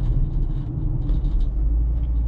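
A car drives through the streets of Williamsburg, Brooklyn, heard from inside as a steady, fairly loud low engine and road rumble with no talking.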